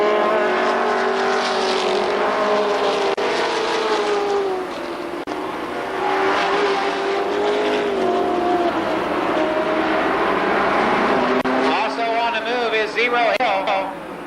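Super late model stock cars race around the Columbus Motor Speedway oval, engines droning loud and steady with rising and falling pitch as the pack circles, a commentator talking continuously over the roar.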